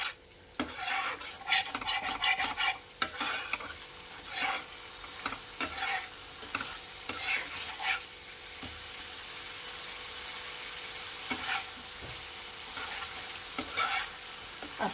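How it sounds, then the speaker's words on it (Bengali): Bengali-style spice paste (masala) for a Tangra fish and poppy seed dish is stirred and fried in a pan, with a steady sizzle under repeated scraping strokes of a spoon. No one talks. "একটু মশলাটা কষিয়ে নেব।"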